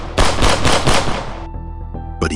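A rapid, loud burst of gunfire sound effects, about four shots in quick succession in a Spider-Man scene, followed by a ringing decay and a final short crack.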